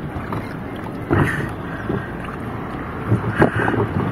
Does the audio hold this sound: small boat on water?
yes